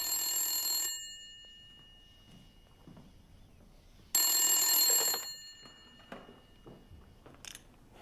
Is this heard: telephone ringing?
yes